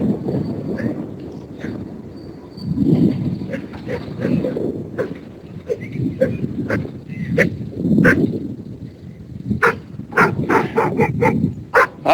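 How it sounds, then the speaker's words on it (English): A dog barks repeatedly outdoors during a bike ride, with sharp yips spread across the stretch, louder bursts toward the end, under steady wind rumble. "You don't need to bark at me."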